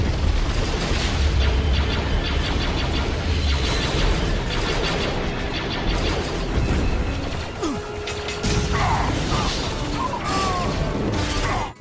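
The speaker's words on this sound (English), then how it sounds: "there's explosions and ships getting destroyed" Booming explosions and crashing ships from a Star Wars Mandalorian Wars battle animation set in an old game engine, dense and continuous, with repeated deep blasts and debris layered over a loud, busy battle mix throughout.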